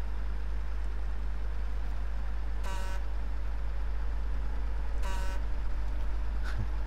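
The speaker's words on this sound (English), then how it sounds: "Honking my horn to make that tree fall over." A truck's horn in the video game SnowRunner sounds two short, blaring honks a couple of seconds apart, rising above a constant rumbling engine drone.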